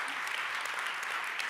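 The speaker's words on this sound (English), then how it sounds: "Please give her a warm round of applause." Brief burst of steady audience applause at a Berlinale Talents panel session, dense and even clapping from a seated crowd.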